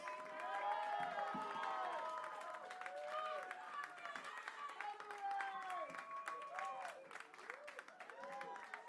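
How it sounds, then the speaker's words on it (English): Audience at a comedy festival show applauding and cheering as comedians gather on stage, sustained clapping with whoops and a tonal voice or music running through it, fairly faint and distant. "A round of applause"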